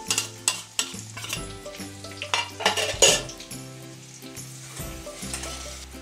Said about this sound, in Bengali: এবার এর মধ্যে পেঁয়াজগুলো দিয়ে ভাজা ভাজা করবে।